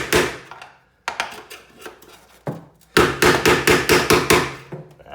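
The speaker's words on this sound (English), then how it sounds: "We're gonna keep chiseling some more" Chisel hammered into the body metal of a Jeep being cut in half, a series of sharp metallic strikes in irregular bursts, ending in a quick run of about eight closely spaced blows, close and loud.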